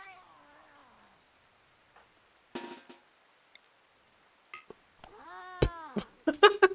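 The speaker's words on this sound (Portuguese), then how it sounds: "Ih, o gato veio atrás." A cat in the video game RimWorld gives a few short, rising and falling meows near the end, preceded by scattered soft clicks and clatter in a quiet background.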